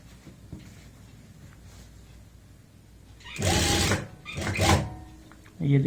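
A sewing machine stitches a women's kurti collar in three short whirring bursts, close and loud, following a stretch of quieter room sound where someone talks.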